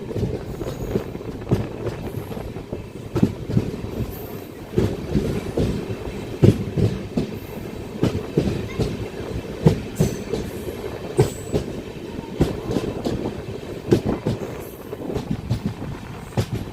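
Cholan Express train rolling through Aduthurai station on the opposite track, a steady close rumble with repeated clickety-clack wheel beats and occasional metallic squeals across the whole stretch.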